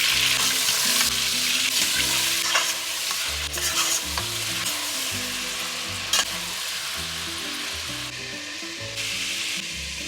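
Pork pieces frying in a pot for braised pork with beer, with a steady close sizzle and repeated stirring scrapes running throughout.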